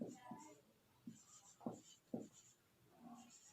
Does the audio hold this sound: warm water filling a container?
no